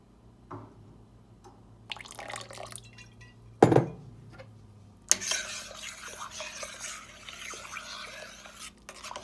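Vinegar pours in a thin trickle into a pot of heated milk to curdle it, with faint liquid dribbles, a sharp clink of a container near the middle, then a sustained splashing pour and stirring toward the end.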